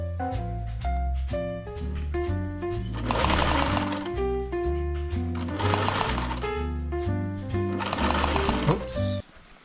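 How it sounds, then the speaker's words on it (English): A sewing machine stitches winter camping tent fabric in quick rhythmic bursts with short pauses between runs, the stitching loud and close with no talk over it. "I sewed about 6 inches of it together there."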